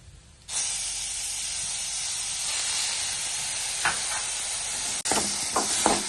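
Blended tomatoes poured into a hot pan of tempered spices for homemade rasam, bursting into a loud, steady sizzle and hiss that continues for several seconds with a brief break and stirring scrapes near the end.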